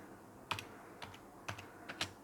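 Computer keyboard keys tapped in short bursts while typing a search in Google Chrome, four or five distinct clusters of light clicks spaced about half a second apart, close and fairly quiet, with no voices.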